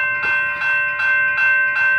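An Amtrak passenger train pulls into a station late at night, its steady rumble and sustained horn-like tones holding loud and close throughout, swelling in a few regular pulses as it nears.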